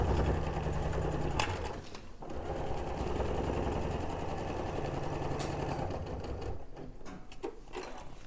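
A sewing machine runs a continuous line of stitching along the base seam of a fabric bag, a steady close whirr with a brief pause and restart partway through.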